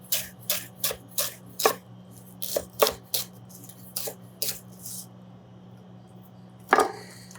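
A knife slices raw, unpeeled celery on the bias into thin slices on a cutting board, giving a run of sharp, evenly spaced chops up close, with a pause and one louder final knock near the end.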